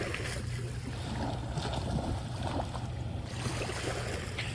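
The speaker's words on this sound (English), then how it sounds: "the sound of these crashing waves help soothe your soul" Sea waves wash and churn steadily close by at a soft level, a continuous rush of water with gentle surges and no talk.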